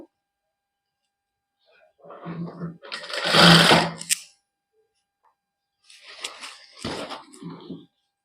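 A domestic sewing machine stitches a printed suit in a boutique, two bursts of rapid mechanical whirring separated by a pause, close and fairly loud, with no talking.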